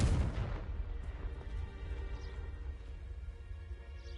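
A Confringo blast spell explodes in Hogwarts Legacy, opening with a loud broadband boom that rolls off into a fading low rumble, followed by faint scattered debris sounds.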